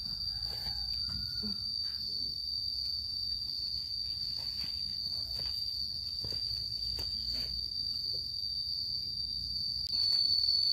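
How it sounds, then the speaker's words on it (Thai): Crickets chirp in a continuous high-pitched trill, steady throughout with faint scattered background noises. "เสียงจิ้งหรีดดังมากเลยเนาะ"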